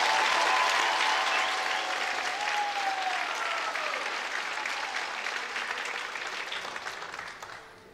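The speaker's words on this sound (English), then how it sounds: "Let's just give him a big round of applause." A crowd applauds steadily at a county band concert, a dense wash of clapping that starts loud and gradually fades toward the end.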